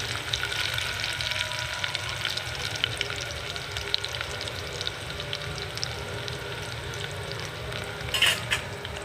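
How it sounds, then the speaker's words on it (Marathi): Onion frying in a pan until browned for a homemade dal amti, a steady close sizzle with faint stirring scrapes throughout, a brief brighter crackle near the end, no voices. "कांदा लाल झाला होस्तो हे करायचं भाजायचं"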